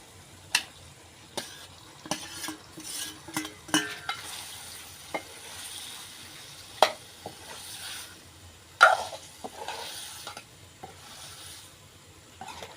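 Bitter gourd fries in oil in a pan with a faint, steady sizzle, broken by scattered clinks and scrapes of a spoon stirring it up close.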